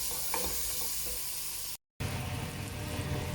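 A mixed spice powder for chicken margoog is stirred in a pan, giving a soft steady sizzle with light scraping and a brief dropout partway through, no voices.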